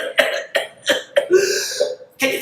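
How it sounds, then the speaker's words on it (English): A person demonstrates a pertussis-style cough, a run of about five sharp, close coughs in quick succession followed by a drawn-out whooping intake of breath and a final cough. "cough like this, that's your cough, am I right?"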